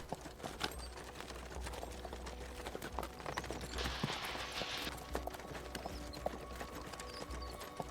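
Rhythmic horse hooves clip-clopping steadily through a video game's ambient soundscape, moderately loud and continuous with no talk over them.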